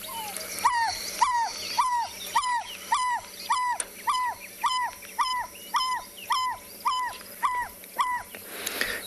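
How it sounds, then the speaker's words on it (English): A barred owlet call played through a phone speaker during a morning safari in South Africa: a loud, close series of about thirteen evenly spaced, purring two-part notes repeating in a steady rhythm, with no talking. "I'll see if I can play a barred owlet call for you."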